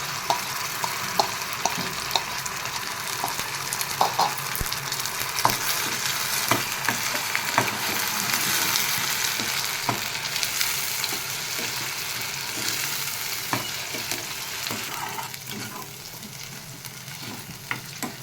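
Onions and masala fry in a pan for a potato chicken curry, a loud continuous sizzle broken by frequent scraping strokes of a spoon stirring the mixture, close and without talk.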